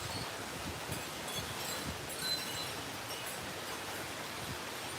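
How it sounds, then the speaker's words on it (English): Strong wind blows outdoors with a steady broadband rush and rustle, moderately loud and continuous throughout, with no talking. "It is so crazy, crazy windy right now."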